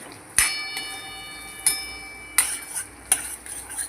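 Sabudana khichdi being stirred with salt in a pan, a faint frying hiss punctuated by four distinct metallic spoon clinks against the pan that ring briefly, close and with no voices.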